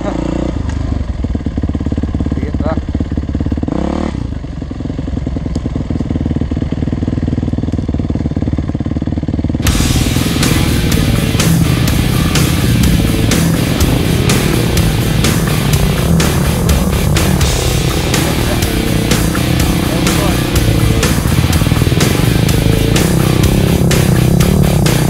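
An enduro motorcycle ridden on a trail ride around Lake Borumba, its engine running steadily and loud throughout with a jump in level partway, while a voice speaks briefly over it.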